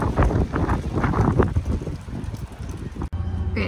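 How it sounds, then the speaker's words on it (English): Steady wind buffets the microphone with low rumbling gusts, loud and close, before a brief dropout and quieter rushing air. "It's so windy out."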